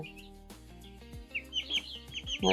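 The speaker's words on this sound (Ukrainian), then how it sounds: "це карликовий кохін-хін. Дуже красива пташечка." A small dwarf Cochin chicken clucks and chirps several times in short, close bursts, with faint background noise between the calls.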